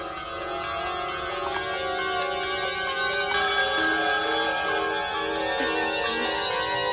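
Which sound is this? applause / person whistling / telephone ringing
telephone ringing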